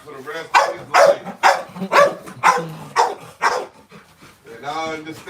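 Close, loud barking from a dog comes in a quick regular series of sharp barks, then trails into a softer whining, yelping tail at the end.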